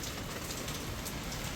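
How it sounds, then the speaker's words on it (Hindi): Heavy rain pours steadily in a continuous dense wash of patter and hiss, close and loud throughout, with no voices. "ये देखो कितना ज़्यादा बारिश हो रहा है हमारे यहाँ पे"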